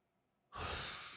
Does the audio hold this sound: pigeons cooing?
no